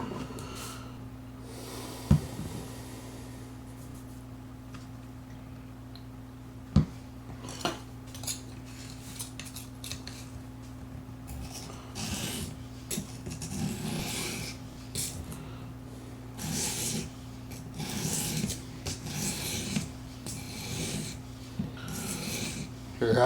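A knife edge rasps back and forth across an Apex Edge Pro sharpening stone in repeated short gritty strokes, fairly close and quiet, with a few sharp taps and a steady low hum underneath.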